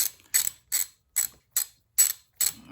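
A ratchet wrench clicks on a Honda 350 motorcycle engine during oil pump work, seven short evenly spaced bursts of ratcheting, close and crisp in an otherwise quiet space.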